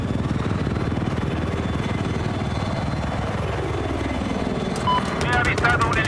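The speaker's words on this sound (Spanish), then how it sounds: "He avistado un helicóptero enemigo." An enemy helicopter in Battlefield 4 on the Shanghai map thrums with a dense rotor chop under voiced game callouts, joined near the end by rapid machine-like bursts.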